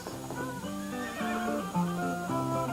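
A horse neighs loudly and at length, a wavering whinny that rises and falls with no talking.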